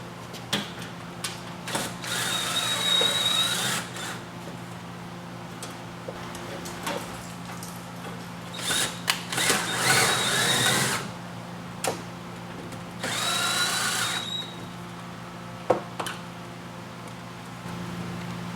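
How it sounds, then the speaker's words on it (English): A screw gun drives screws into a shutter track during installation, giving a few short whirring bursts with pauses, plus scattered clicks and taps of tools and parts close by, with no talking. "our screw gun, screw tips"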